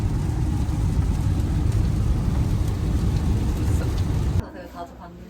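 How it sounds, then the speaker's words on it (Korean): Heavy rain pours steadily and loudly, a dense wash of drumming that stops abruptly near the end, leaving a quieter background. "비가 많이 오네요"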